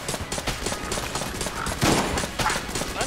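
Rapid nail gun fire in the Enter the Gungeon video game, a dense stream of sharp shots over game noise with a louder burst partway through.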